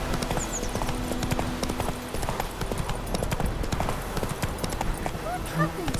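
Rhythmic clip-clop of the horse Roach's hooves in The Witcher 3, steady and close, with game sounds and voices in the background.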